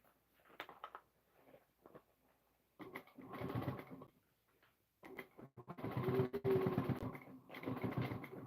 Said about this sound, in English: I'm just shifting the bag around while I'm sewing.